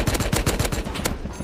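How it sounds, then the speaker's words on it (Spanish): Rapid AK rifle fire in Rust, a fast string of sharp, loud shots in steady rhythm, then a brief pause and a final crack. "Una AK, dos disparos."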